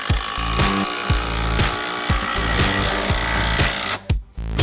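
A power drill drives a screw into a wooden deck post, a loud continuous whir with rhythmic ratcheting pulses, close up, cutting off briefly near the end.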